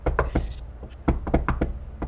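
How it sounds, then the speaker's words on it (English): A complicated rhythmic knock on a door: about a dozen sharp, close raps in uneven groups, clear and fairly loud with no voices. "I do a complicated knock on the door again"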